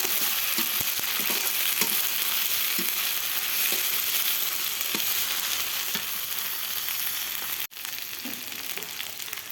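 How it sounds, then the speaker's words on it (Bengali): Spice paste of ground cumin and garlic frying in a pan, a loud continuous sizzle close up with soft intermittent scrapes of stirring, a brief drop near the end. "জিরে বাটা, রসুন বাটা, মশলা আমি কষাই নেব।"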